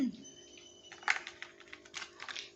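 Homemade peanut candy (kadalai mittai) snaps as it is broken, with a string of sharp, light clicks and cracks of varying loudness close by against a quiet background.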